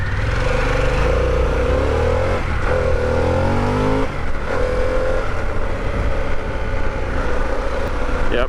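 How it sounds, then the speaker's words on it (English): Riding a Harley Pan America motorcycle, the engine rises through revs and shifts under constant loud wind rush and buffeting near the rider's ears, with no speech. "Yep, I hear the buffeting right at the ears still."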